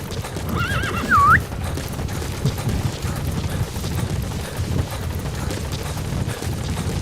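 A horse in the video game Metal Gear Solid V gives one short, clear whinny near the start, over a continuous low rumbling game backdrop with faint hoof clopping.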